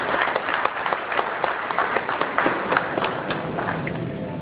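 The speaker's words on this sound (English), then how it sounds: "So a big round of applause for his presence and achievement." A seated audience at an expert speakers' event applauds a guest from Air India, with steady overlapping clapping from many hands at moderate loudness and distinct individual claps standing out throughout.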